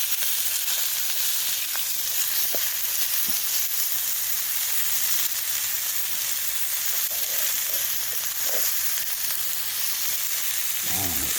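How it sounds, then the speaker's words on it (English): Broccoli, garlic and green onion frying in a pan beside ribeye steaks, giving a steady, close, broadband sizzle and hiss that runs unbroken throughout, with faint stirring clicks and no talking. "let me throw my broccoli in. Put my broccoli in there."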